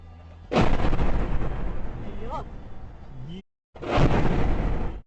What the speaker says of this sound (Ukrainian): Момент влучання авіабомб зафільмував відеореєстратор у автівці